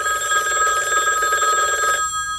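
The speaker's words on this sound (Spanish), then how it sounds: "Suena el teléfono." Telephone bell ringing loud and close in a steady electronic trill, then cutting off abruptly near the end.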